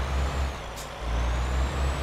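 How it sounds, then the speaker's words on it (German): A truck's air brakes give a short hiss during hard braking in the Euro Truck Simulator 2 driving game, over a steady, low engine rumble with no talking. "Oh, da habe ich aber ein bisschen arg abgebremst."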